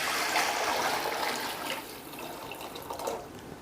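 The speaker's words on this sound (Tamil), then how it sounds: "1 கப் அரிசிக்கு 2 கப் தண்ணின்னு அளவு எடுத்து ஊற்றிக்கணும்" Water splashes steadily into a pot of rice for chicken fry biryani, a continuous close pour that eases slightly toward the end.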